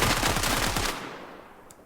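Rapid automatic AK rifle fire in a video game, a loud close burst of evenly spaced shots lasting under a second, then a fading echo tail with one faint click.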